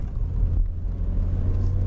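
A car driving an elk test course of cones at about 60 km/h gives a steady, close, low engine rumble and drone with road noise throughout, without pauses.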